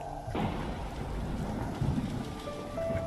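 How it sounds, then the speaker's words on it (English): Steady, heavy rain from a video game hisses continuously, heard from inside a room with a boarded-up window, with a low rumble underneath and a faint tone entering near the end. "The window is all boarded up, and all you can hear is the rain."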